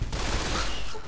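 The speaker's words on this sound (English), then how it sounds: "Keep shooting." Dense, continuous burst of gunfire in the Fallout: New Vegas video game, loud and close, filling a brief moment with a crackling roar.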